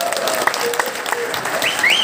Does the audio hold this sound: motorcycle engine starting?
no